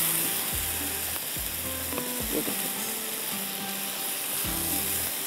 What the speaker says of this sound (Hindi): यहाँ पर हम डाल देते हैं कीमा